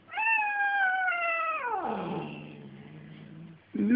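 A cat lets out a long, drawn-out yowl that slides down into a low, rumbling growl, close and loud.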